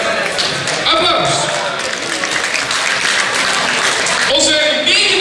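Crowd applause at a carnival-song contest prize announcement, steady clapping filling a hall with cheering and voices talking and calling over it.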